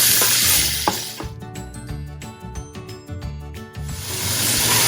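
Vegetables with finely minced garlic, salt and black pepper cook in a pan with a soft hiss and sizzle, broken in the middle by a run of small clicking stirs, close and moderately loud.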